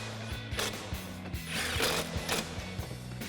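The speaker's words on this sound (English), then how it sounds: "we'll grab our 15mm swivel socket on our impact." An impact wrench with a 15mm swivel socket tightens brake bolts on a 2016-2024 Camaro SS, giving loud rapid hammering bursts with a ratcheting, mechanical rattle, close up.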